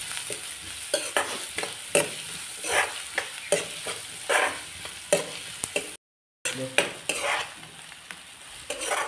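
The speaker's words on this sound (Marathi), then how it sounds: "कांदो चांगलं जरा परतून घेऊया. लाल होऊ दे." Chopped onions sautéed in a pan for a Malvani clam dish, a steady close sizzle broken by repeated scraping stirs with a brief gap near the end.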